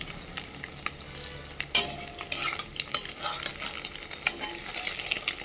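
An egg fries in a pan with onion, cumin and chilli, giving a steady close sizzle with scraping stir strokes and light utensil clinks throughout.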